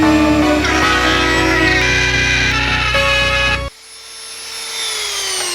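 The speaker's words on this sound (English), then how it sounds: "This is a Dremel zip bit, and it's kind of like a drill, except it's made to cut sideways" A high-pitched Dremel rotary tool with a zip cutting bit whines steadily while cutting, loud and close, then cuts off abruptly and leaves a quieter, fading whir.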